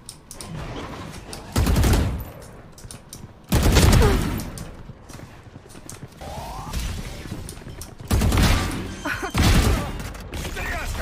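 Gunfire in Valorant during a competitive round, with several loud bursts of rapid shots separated by quieter stretches of game sounds and player chatter.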